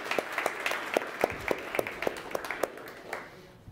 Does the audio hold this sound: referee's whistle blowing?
no